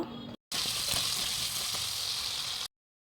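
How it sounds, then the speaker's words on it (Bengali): Cut potatoes frying lightly in oil in a kadai with a little salt and turmeric, a continuous close, bright sizzle that cuts in after a brief gap and holds steady for about two seconds, with no speech. "আলুটা সামান্য নুন আর হলুদ দিয়ে আমি হালকা ভেজে নেব"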